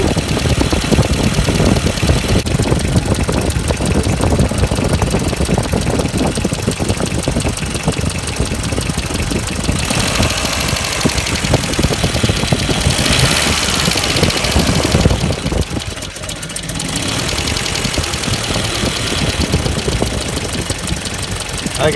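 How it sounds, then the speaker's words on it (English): The engine of a 1994 Ford Econovan with freshly set ignition points idles steadily and loudly up close, a continuous rough mechanical drone with a knocking, ticking texture and a brief dip in intensity partway through. "The idle's a little bit more sensible."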